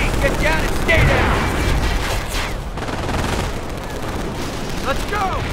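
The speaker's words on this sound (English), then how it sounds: "Don't let those MGs catch you in the open." Dense battlefield gunfire and explosions from Company of Heroes during a D-Day beach assault, with machine guns rattling under shouted voices throughout.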